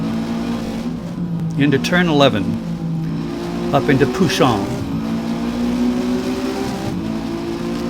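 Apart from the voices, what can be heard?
race car engine, feathering the throttle through a turn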